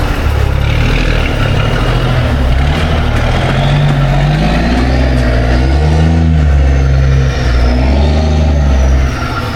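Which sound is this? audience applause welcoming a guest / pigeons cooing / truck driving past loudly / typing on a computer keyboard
truck driving past loudly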